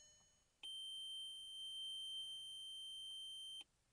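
A car dashboard warning buzzer sounds a single sustained electronic tone for about three seconds, steady and piercing, then cuts off abruptly in an otherwise quiet setting.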